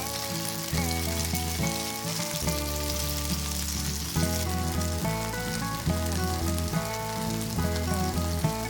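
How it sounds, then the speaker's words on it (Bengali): Chicken pieces frying in oil for butter garlic chicken, a steady sizzle running under loud background music throughout. "চিকেনটা খুব বেশি ভাজবো না, হালকা লালচে লালচে হলে চিকেনটা নামিয়ে নেব।"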